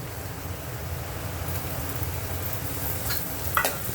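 Tomatoes dropped into reddish-browned fried onions in hot oil for a Maharashtrian chicken curry, giving a steady close sizzle with a brief louder splash and crackle near the end.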